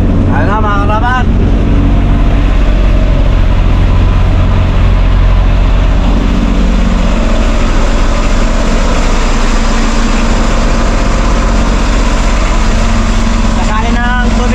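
Boat engine running continuously with a loud, steady low droning rumble throughout, with brief voices near the start and end.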